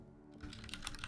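Fast clicky keystrokes on a mechanical keyboard, a quick run of sharp taps close to the mic, with no talking.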